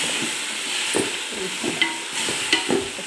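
Ground mint and turmeric paste frying in a pan for vegetable palav, with a soft steady sizzle broken by several scraping stirs and light taps of the spoon.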